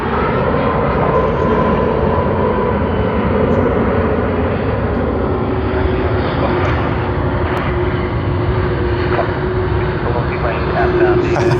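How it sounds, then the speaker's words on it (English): An Airbus A330 arriving at Sydney Airport from Jakarta fills the air with a loud, sustained jet engine drone and steady whine, continuous and close throughout. "Another A330 from Jakarta."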